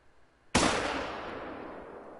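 A rifle fires once in the hunting video game theHunter: Call of the Wild, giving a sudden loud crack followed by a long, fading rumble.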